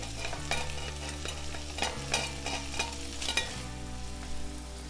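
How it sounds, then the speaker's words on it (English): Chopped onions and celery sizzle in an oily pan with a steady frying hiss, while repeated scraping stirs and clinks come through at close range and no one speaks. "In goes the chopped onions and the celery."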